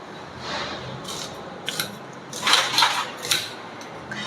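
Coconut being cut into thick pieces in a home kitchen, a few scraping and crunchy cutting strokes in short bursts, fairly faint and close.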